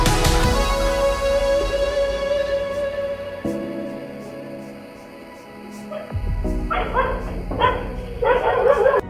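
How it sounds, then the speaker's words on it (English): A dog inside a house in the Philippines gives a series of barks and yips, fairly close and loud, with brief whimpering tones between them. "There was a watchful dog named Blackie inside."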